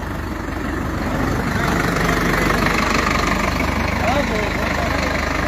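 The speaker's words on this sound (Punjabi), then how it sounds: "ਆ ਟਰੈਕਟਰ ਆਇਆ" A heavy new Sonalika tractor engine idles with a steady low chugging rumble close by, running continuously throughout.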